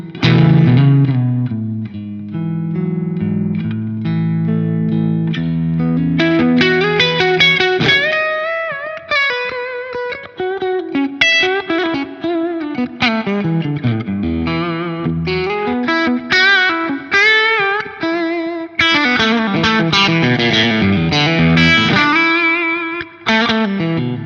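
An electric guitar played through a very transparent overdrive pedal rings out in clear, dynamic chords and single-note phrases, lightly driven and responsive to picking strength, with sustained notes blooming over roughly twenty seconds of continuous playing.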